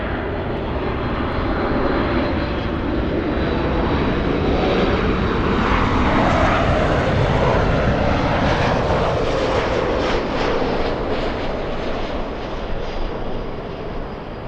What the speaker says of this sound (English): we have American racing down the runway